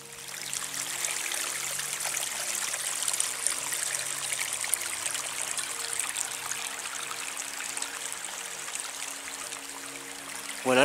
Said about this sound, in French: je suis arrivé à la rivière de Laguebrun, qui est juste en bas